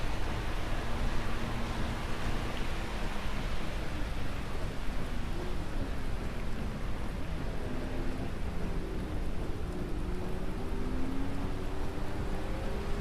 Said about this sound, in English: It is actually raining in the desert.